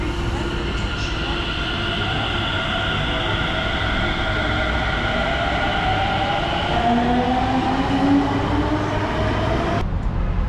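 A Delhi metro train rolls along with a steady loud hum and rising wheel and motor whine, continuous through the ride and cutting off abruptly near the end.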